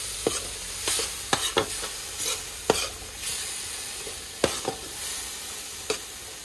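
Crab curry with masala and curd powder cooks in a pan with a little added water, stirred in bursts: several sharp scraping strokes spaced across the clip over a steady low sizzle, with no voices.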